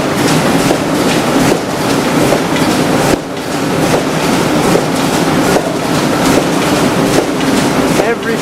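A RotacuT sheet-cutting machine runs with its feeder on a carriage moving back and forth, giving a loud, dense mechanical clatter with regular rhythmic pulses and a brief dip partway through.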